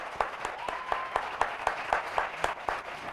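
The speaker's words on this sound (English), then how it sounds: "So let's give them a round of applause." Audience applause at a West Side heroin and opioid task force meeting: a modest round of steady, evenly spaced claps from a small crowd, moderately loud, with no talking over it.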